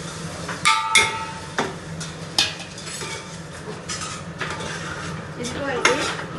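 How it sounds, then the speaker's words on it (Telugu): Rice tipped into a pan of fried ginger paste for coconut rice, with sharp clinks and clatters of a metal utensil against the pan and a steady scraping stir underneath; no talking. "ఇప్పుడు రైస్ ఇందులోకి వేసుకుందాం."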